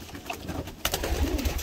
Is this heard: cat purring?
no